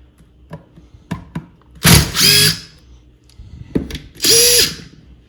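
A power drill fitted with a flex bit extension whines in two long bursts. Short clicks and trigger blips come before each burst, and the tool sounds close and loud with no talking.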